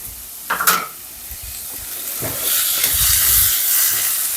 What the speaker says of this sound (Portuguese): Colocando aqui o alho.